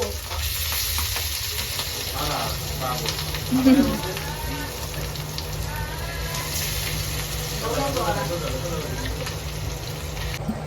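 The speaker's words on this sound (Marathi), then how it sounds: "तर आता मी तळते मच्छी." Fish fries in hot oil with a continuous close sizzle and occasional stirring scrapes, while someone talks over it throughout.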